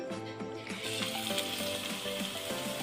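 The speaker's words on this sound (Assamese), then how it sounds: "এতিয়া ফাৰ্ষ্ট টাইম মই পাপৰ ফ্ৰাই কৰিম" Papad frying in hot oil in a kadai gives a loud, close sizzle, broken by a regular scraping rhythm as it is turned and pressed, with no voices.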